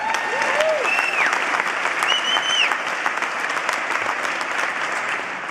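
Steady applause from a gala audience at the Marian Anderson Award event in Philadelphia, dense and continuous throughout, with a few whistles or cheers rising over the clapping.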